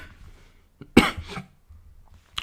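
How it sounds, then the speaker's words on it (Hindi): A single close cough from a physics teacher mid-lesson, one sharp burst with a short follow-up hack, set against a quiet room. "सॉरी ये तो खांसी तो और ही परेशान कर रखी है"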